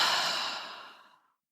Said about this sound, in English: Just take a deep breath, inhale, really inhale, fill the lungs, and then just exhale.